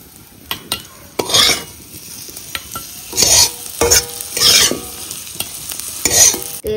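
Koi fish fries in hot oil in a Bengali village kitchen, a soft sizzle broken by several bursts of scraping stirs and sharp metal clanks of a spatula against the pan.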